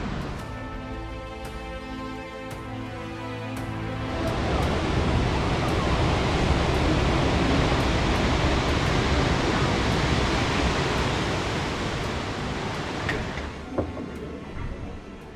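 Ocean waves surging against the rocky coast at Tintagel, England, a steady broad roar of surf that swells after the first few seconds and stays loud and close, with no talk over it.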